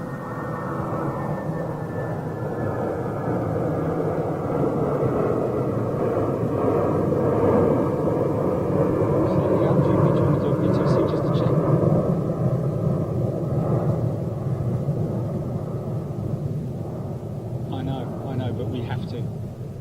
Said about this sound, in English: that one just going out to Heathrow. Beautiful 757.